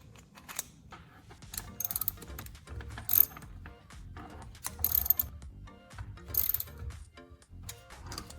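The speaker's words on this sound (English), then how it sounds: "insert the center bolt. Tighten it until the blades move smoothly without wobble" A center bolt on reassembled pruning shears is tightened, giving quiet clicking ratchet-like metal turns in short bursts with brief pauses, heard close up and alone.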